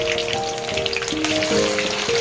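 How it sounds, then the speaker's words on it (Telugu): Chicken pieces fry in hot oil for a Telugu chicken pachadi, a loud, dense, steady sizzle close by with occasional faint clinks. No one speaks. "ఇట్లా ఆయిల్ బాగా వేడైన తర్వాత ఇట్లా చికెన్ పీసెస్ మనం దీంట్లో వేసుకోవాలి."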